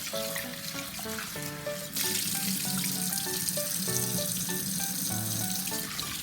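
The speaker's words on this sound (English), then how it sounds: "So now I'm going to wash this fish." Tap water runs and splashes steadily into a sink as fish is washed, growing louder partway through, with light background music underneath.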